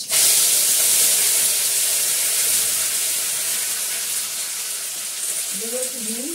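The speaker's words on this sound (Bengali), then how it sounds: "এই কারি পাতাটা নিয়ে নিলাম, একটু ধুয়ে দেবো" Curry leaves being washed under running water, a loud, steady rush of water that continues throughout, with a faint tonal sound near the end.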